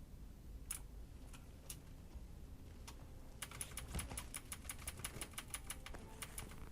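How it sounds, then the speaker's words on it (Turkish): Computer keyboard keys clack quietly over a steady background hiss, sparse taps at first, then a quicker, rhythmic run of keystrokes during a Hitman gaming session. "klavye sesi için özür diliyorum arkadaşlar"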